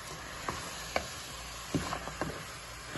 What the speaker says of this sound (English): turmeric, salt, and just continue to stir everything together